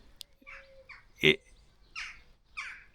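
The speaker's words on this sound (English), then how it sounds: "your situation awareness of these seagulls all around you" Seagulls call around the listener in a series of short, scattered cries. One loud, close squawk stands out among fainter calls, and a voice is faintly heard in the background.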